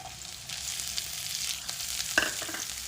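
Crushed ginger, garlic and onion fry in a pan while being stirred, giving a soft, continuous sizzle with a sharper scrape of the spoon near the end.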